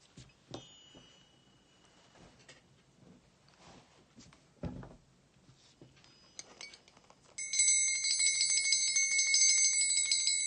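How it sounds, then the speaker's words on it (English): A hand bell rung to clear negative energy, heard after scattered knocks and handling clatter as a bright, sustained ringing that starts suddenly and continues loud and close to the end. "I'm going to clear away the evil trolls with this bell."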